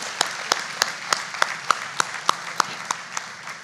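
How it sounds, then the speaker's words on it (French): Sparse, slow clapping after a talk on light therapy, single sharp claps spaced at an even beat about three per second, fairly close, with little else around them. "So, a big round of applause."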